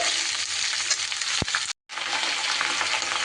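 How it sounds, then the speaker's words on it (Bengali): Chopped onion stalks fry in a hot pan while being stirred, a loud continuous sizzle with scraping spatula strokes, one sharp knock, then a brief dropout before the frying resumes. "এবার সুন্দর করে একটু নাড়াচাড়া করে"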